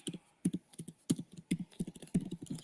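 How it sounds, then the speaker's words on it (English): Rapid typing on a computer keyboard, close and fairly quiet, with bursts of sharp key clicks in an irregular rhythm and no speech. "What are you typing? You're going crazy."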